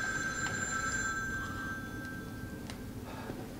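A telephone bell rings repeatedly in the horror video game The Evil Within 2, with steady rings over a low background hum and no talking.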